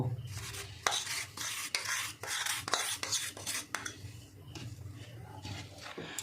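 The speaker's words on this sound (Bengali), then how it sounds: "সব ভালো করে মিশিয়ে নেব" Batter for sweet potato jalebi being stirred by hand with baking soda and milk powder in a bowl, a close wet scraping and rubbing with irregular clinks of the spoon against the bowl, no voices.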